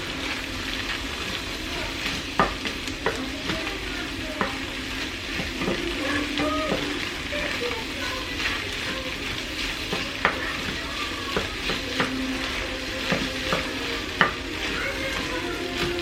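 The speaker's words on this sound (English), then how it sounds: "And mix it all in here." Food being stirred while it fries in a pan, a steady close sizzle broken by scattered utensil taps and scrapes against the pan, with no voices.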